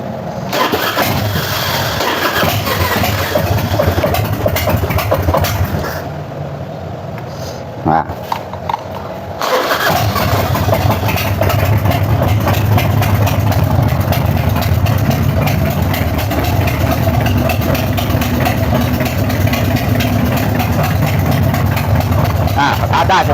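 A Honda Dyna motorcycle engine cranks and starts, then settles into a steady, loud idle that runs close by for most of the stretch, with a short quieter gap partway through.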